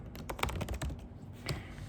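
Quick, uneven keystrokes clatter on a computer keyboard in a close, steady burst of typing, alone with no talk.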